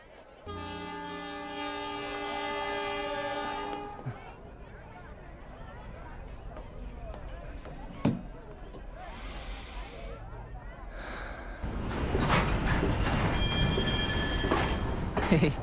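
A train in a railway setting: a sustained horn-like tonal blast opens, followed by rumbling and clattering of cars, with a louder surge of rolling noise near the end; voices can be heard over the background.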